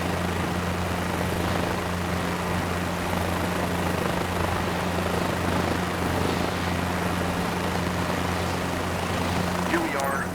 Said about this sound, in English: Hovering is the most challenging part of flying a helicopter.